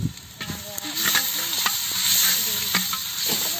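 Ginger garlic paste and green chili fry in oil in a clay pot, giving a steady close sizzle with repeated stirring scrapes and clinks throughout.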